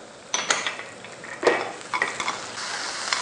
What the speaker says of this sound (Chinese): 你会看到我们的洋葱啊已经炒到软了哈，蘑菇啊，等一下我们把它炒到金黄色